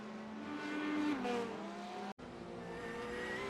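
Sim race cars at Imola in a racing video game, engines droning steadily with rising and falling pitch as one spins out through grass, a brief dropout midway, no talk.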